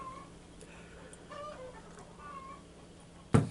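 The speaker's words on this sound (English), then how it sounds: "There's a hen right through there letting us know that she is proud she just laid an egg" A hen clucks somewhere off to one side after laying an egg, giving a few faint, scattered calls against quiet farmyard ambience, and then a sudden louder knock ends it.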